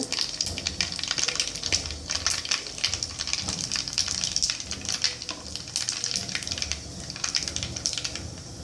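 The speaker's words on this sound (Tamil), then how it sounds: "கடுகு நல்லா வெடிக்கட்டு" Dense, rapid crackling and popping of mustard seeds in hot oil, a continuous sizzle with sharp spits throughout, close and fairly loud, no talking.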